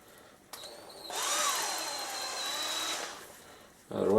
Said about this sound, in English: we'll demonstrate how well this thing drills